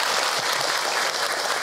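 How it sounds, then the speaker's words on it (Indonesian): Audience applause at an Islamic religious lecture, a steady dense patter of many hands clapping throughout, fairly loud and without speech. "Tepuk tangan atuh buat bunda semua."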